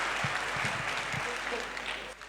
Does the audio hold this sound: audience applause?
yes